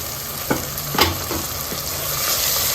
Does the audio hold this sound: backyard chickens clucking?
no